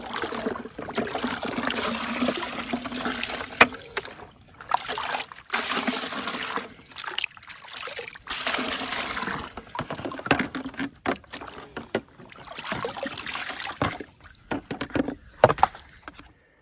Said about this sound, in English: start washing this down with our gold pan right here in the creek.